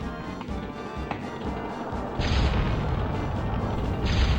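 A tank rumbling along and firing in Gex 3, with a constant heavy mechanical roar and a louder burst of noise midway that continues to the end.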